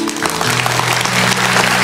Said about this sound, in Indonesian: Yang percaya kasih tepuk tangan untuk Tuhan